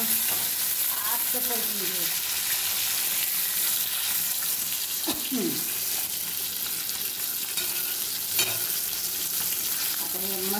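Fish fries with mint in a pan, giving off a constant sizzle and crackle with stirring scrapes now and then. A voice speaks briefly over the frying.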